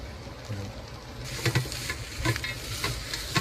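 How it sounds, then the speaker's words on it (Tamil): A spoon stirs khara avalakki in a hot pan after salt goes in, soft sizzling under a few scraping, pattering strokes close by, with no one talking. "உப்பு போட்டு மறுபடியும் கிண்டுறோம்."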